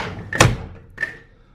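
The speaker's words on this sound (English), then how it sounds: "Door closed." The door of a Spartan enclosed trailer swings shut with a sharp, close slam, followed by a softer second knock as it settles or latches.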